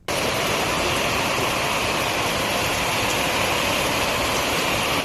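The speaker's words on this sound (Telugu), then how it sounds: "మొగులకు తూటు పడ్డట్టే రికాము లేకుండా వాన పడతనే ఉన్నది" Heavy rain pours without a break in Hyderabad, a loud, dense, unbroken hiss and roar that fills the whole stretch evenly, with no voices.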